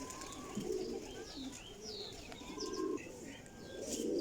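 Soft, low pigeon coos repeat in rounded bursts, with a few higher bird chirps and whistles scattered faintly around them.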